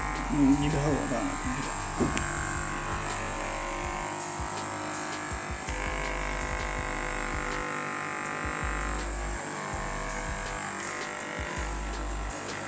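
Small homemade USB fan with a tiny electric motor, a steady close buzzing whir with a brief clattery start, running continuously while a person talks over it.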